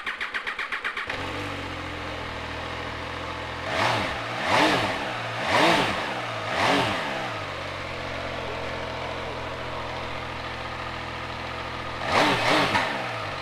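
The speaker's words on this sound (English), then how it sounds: "Let's give it a quick start up." A 2015 MV Agusta Turismo Veloce 800 motorcycle with 7652 miles fires up after a brief starter crank, then settles into a steady idle broken by four sharp throttle revs and a final pair of blips, close and loud.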